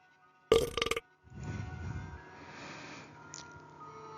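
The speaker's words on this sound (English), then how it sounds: "Belching loudly after drinking so many containers of Coke" A loud, close burp from drinking lots of Coke, a short sputtering belch lasting about half a second, followed by a softer rumbling, bubbly fizz-like noise trailing off.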